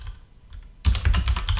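A brief burst of rapid keystrokes on a computer keyboard, close and clear after a moment of quiet.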